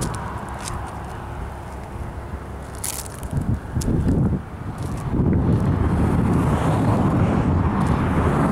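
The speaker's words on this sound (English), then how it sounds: "It's more windy down here than it was up there." Strong wind on the San Pasqual Native Indian Cemetery and Battlefield trails buffets the microphone in a constant roar, with gusts swelling louder and rougher toward the end.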